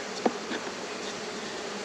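Honey bees swarming around an opened brood hive during a honey harvest, a dense continuous buzz close by with a couple of louder bees passing near at the start and end.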